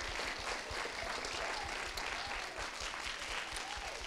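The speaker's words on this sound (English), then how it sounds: "I'm going to ask that we give a round of applause for our speaker tonight" A sustained round of applause for the speaker, Ed Buckbee, at an evening talk, with dense, steady clapping from an audience filling the full four seconds at an even level, and no voices over it.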